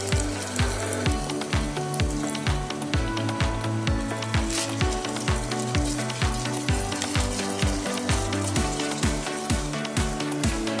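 Dahi chicken cooking in a pan with a little water just added, a dense, steady sizzle and crackle of frying that runs loud and continuous throughout, with no talking.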